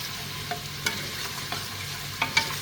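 A utensil scrapes and knocks around inside a pot of oxtail soup in a few irregular strokes, with a steady low simmering bubble underneath; no voices.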